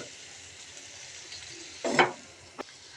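Chicken chilli with tomato sauce stirred in a frying pan: a soft sizzle underneath, then a loud scraping stir burst near the end and a brief second clink.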